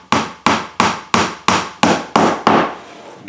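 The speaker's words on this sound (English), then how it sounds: "Oh, there's my nail bending over. I'm going to tap that straight." Hammer tapping a bent nail straight and driving it into a wooden birdhouse kit, about seven sharp, evenly spaced close blows ringing on wood, with no talking.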